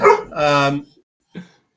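Dogs bark indoors during a football podcast recording, giving a close, fairly loud pair of yappy, whining barks followed by a shorter single bark after a brief pause.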